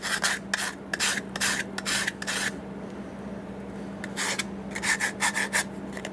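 Hand filing bevels a Taylor guitar repair part: a series of short, rhythmic rasping strokes, close and crisp, in two bursts separated by a brief pause, over a faint steady hum.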